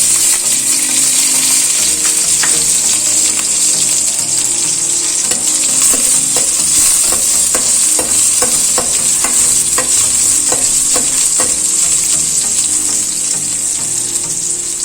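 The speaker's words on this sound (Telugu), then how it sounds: "ఇవి బాగా వేగనివ్వాలి. ఇవి వేగాక ఇందులోకి ఆనియన్స్ కూడా యాడ్ చేయాలి." Garlic sizzling and frying in oil in a pan for Telugu-style methi dal (fenugreek leaf lentils), a loud steady crackle with scattered clinks and scraping stirs throughout, no talking.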